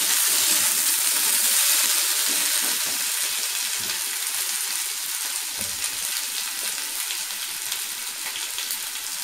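Potatoes fry in a pan for a Bengali-style poppy seed dish, giving a steady, close hiss of sizzling oil with faint scrapes and pops throughout and no talking.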